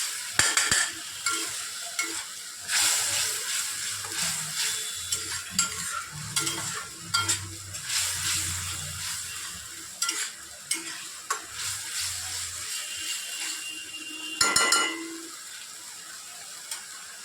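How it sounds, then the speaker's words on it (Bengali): Spice paste for a pointed gourd and prawn curry is stir-fried in a pan, with a soft continuous sizzle under repeated scraping and clattering of a spatula, close by and fairly quiet, with a sharper clatter near the end. "এবার মশলাটাকে ভালো করে কষাতে লাগবে"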